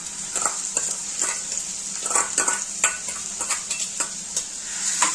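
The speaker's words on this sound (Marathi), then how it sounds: "ते चांगले जरा लालसर होईपर्यंत आपण तेलामध्ये परतून घेऊया।" Sliced onions fry in oil in a kadhai, a steady close sizzle broken by repeated scraping stirs and light clinks at an uneven rhythm, with no talking.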